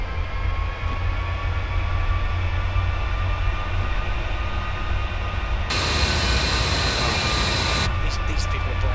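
Avro Vulcan XH558 jet engines in Microsoft Flight Simulator taxiing with a little added thrust, a steady loud roar with whining tones that swells brighter and hissier partway through, continuous throughout.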